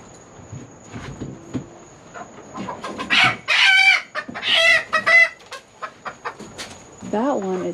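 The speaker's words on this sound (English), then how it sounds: "That one is a hen." Chickens cluck and squawk close by in agitated bursts as they are caught for feather trimming, with a rooster-like call near the end and a person's voice low in the background.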